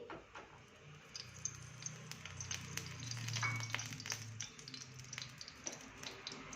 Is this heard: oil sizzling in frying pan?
yes